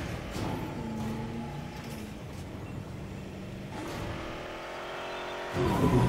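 A ranger jeep driving over a bumpy custom course in Jurassic World Evolution, its engine droning and shifting pitch as it speeds up and slows, with a louder rush of revving near the end.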